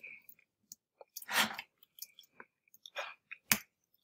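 Crunchy chicken skin being chewed up close, with loud irregular crackling crunches and soft wet mouth clicks separated by near-silent pauses.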